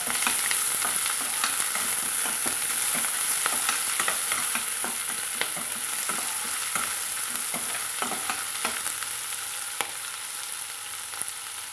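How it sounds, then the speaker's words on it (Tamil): Pirandai (adamant creeper) sautéing in a pan with coriander seeds and curry leaves for thuvaiyal, giving a steady close sizzle with repeated scrape-and-stir clicks throughout and no voices. "அப்படியே பிரண்டையும் போட்டுக்கிறேங்க நம்ம நல்லா வதக்கலாங்க"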